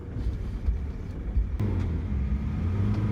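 A car passes close by on a road near standing water where Land Rovers are driven, a steady engine and tyre rumble swelling slightly, with a sharp knock partway through and no talking.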